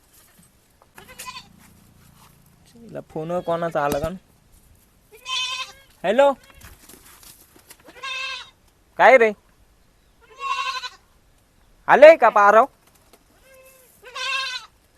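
A goat bleats several times in wavering, nasal calls spaced across the scene, close by and fairly loud, alternating with people talking nearby.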